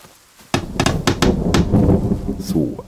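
A thunderstorm with rain in the video game The Forest: loud rumbling thunder breaks in suddenly with a series of cracking impacts, over a steady rush of rain.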